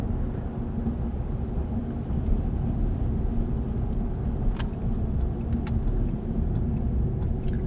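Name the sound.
2025 Ram 1500 Rebel truck driving in two-wheel drive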